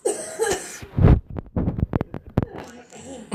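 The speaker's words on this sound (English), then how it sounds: "you have to cough at the worst of times, don't you?" A cluster of several sharp coughs in quick succession, close and fairly loud, with short breathy sounds before and after.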